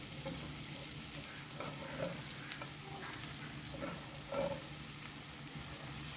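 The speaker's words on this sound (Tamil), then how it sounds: "இப்போ இந்த வெங்காயம் நல்லா வதங்கிடுச்சு. இப்போ நான் இந்த டைமில் நான் கட் பண்ணி வச்சுக்கிற டொமாட்டோ இதில் ஆட் பண்ணிக்கிறேன்." Onions and tomato frying in a pot for biryani give a faint, steady sizzle with occasional scraping stir sounds, quiet and close.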